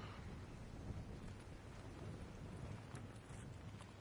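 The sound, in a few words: storm in video game Arc Raiders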